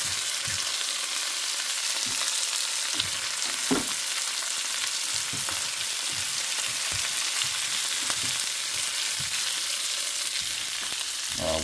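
Potatoes and onion frying in a cast skillet for southern skillet potatoes give a steady, close sizzle throughout, with occasional soft clicks and scrapes of stirring.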